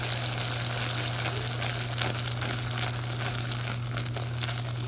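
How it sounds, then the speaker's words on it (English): Gold candy apple coating is stirred in a pot and foams up. It makes a steady, loud bubbling sizzle with faint scraping from the stirring and no voices. "I'm gonna mix it in. It's gonna bubble up."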